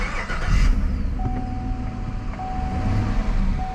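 A 2020 Chevrolet Colorado V8 with a straight-through resonator exhaust idles and runs in a steady low rumble, with a faint high whine over the engine and a brief louder burst near the start.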